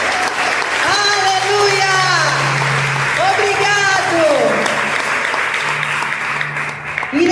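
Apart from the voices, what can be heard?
congregation applauding in church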